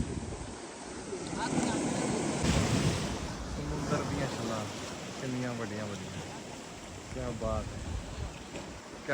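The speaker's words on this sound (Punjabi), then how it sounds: "ਜਦੋਂ ਪਾਣੀ ਆਣ ਕੇ ਟਕਰਾਉਂਦਾ ਫਿਰ ਪਿੱਛੇ ਚਲਾ ਜਾਂਦਾ" Sea waves surge and crash against rocks between two hills on the coastal road from Ratnagiri toward Goa, a steady loud wash with wind noise, while someone talks over it throughout.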